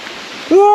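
Water rushes steadily at a village dam, a soft broadband hiss that lasts about half a second before a voice begins over it.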